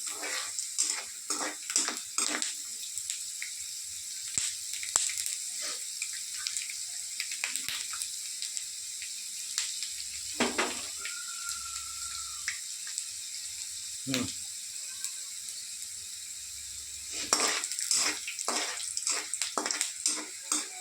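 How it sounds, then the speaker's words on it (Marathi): Peanuts fry in oil for kanda poha, a steady bubbling sizzle with intermittent sharper crackles and stirring scrapes, heard close throughout. "तळून घ्यायचे शेंगदाणे आपल्याला याच्यामध्ये"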